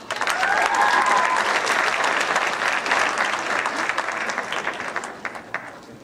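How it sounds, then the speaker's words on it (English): An audience at a high school academic awards ceremony gives recipients a sustained round of loud, dense applause that gradually tapers off toward the end. "give all of these award recipients a great hand of applause"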